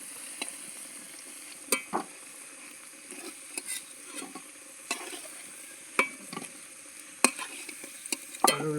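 Potatoes frying in a pan, a soft continuous sizzle broken by repeated scraping stirs of a utensil at an uneven rhythm, close by and moderately quiet, with no talk.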